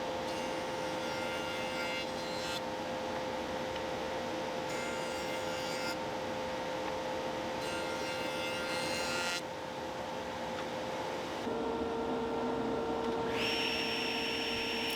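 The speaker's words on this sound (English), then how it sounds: "At the joiner, I make an edge straight and 90 degrees to both faces." A wood jointer straightens a board edge with a loud, steady motor hum and a rushing cutter roar that swell and ease as the board passes over it in several back-to-back runs.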